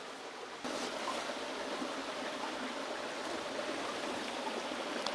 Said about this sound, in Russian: Шумит вода по осени.